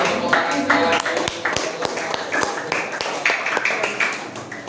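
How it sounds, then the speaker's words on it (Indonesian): Students in an Islamic religious education classroom clap for presenting groups, a loose scatter of sharp individual claps from a small group, uneven and close, with some talk mixed in. "Yuk, kasih tepuk tangan sekali lagi."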